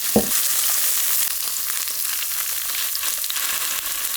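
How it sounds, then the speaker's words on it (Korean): Tofu pan-frying in oil until golden, producing a dense, even, loud sizzle that holds steady throughout, opening with a single soft knock. "이렇게 노릇노릇할 때까지 구워서 불을 끄고 두부를 식혀주세요"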